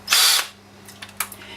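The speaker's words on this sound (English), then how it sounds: "tell the drill which direction it's supposed to be drilling or turning" A handheld power drill whirs loudly for a short burst, then stops, followed by faint clicks and light handling noises.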